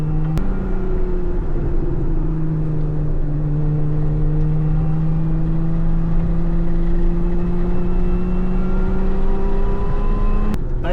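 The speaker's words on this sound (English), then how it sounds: "It definitely whines when you get on the gas." A Lotus Emira under acceleration, heard from inside the cabin: a loud, rising engine whine climbs steadily in pitch over a constant road rumble, continuous and close for the whole stretch.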